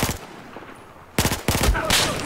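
Enemy machine gun fire rattles in Battlefield 4: a quick burst opens, a short lull follows, then louder sustained automatic volleys crack close by.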